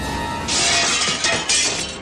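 A wall clock falls and breaks, giving a sharp shattering crash followed by a second burst of breaking and clinking debris, loud and close, with no voices over it.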